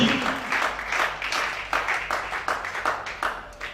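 Congregation clapping together at a French-language night prayer service, a steady rhythmic applause with bursts of cheering voices, loud and close, filling the whole stretch.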